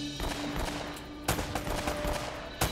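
Rapid gunfire during combat in Uncharted: Drake's Fortune, a steady crackle of shots with two sharp, louder reports standing out near the middle and the end.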